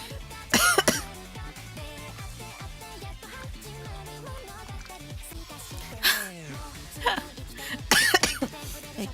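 A girl coughs in repeated fits, several harsh, loud bursts close by, with a voice speaking between them.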